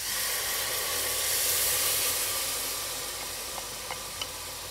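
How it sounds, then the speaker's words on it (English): Coconut milk poured into a pan of sizzling red curry paste and oil for Thai red curry, giving a loud, broad steady hiss that eases slightly, with a few faint clicks near the end. "Once this happens, we're going to add our coconut milk."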